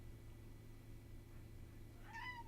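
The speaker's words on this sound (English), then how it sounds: "Why'd you come in here and meow at me?" A single short cat meow near the end, fairly clear over a low steady hum in a quiet room.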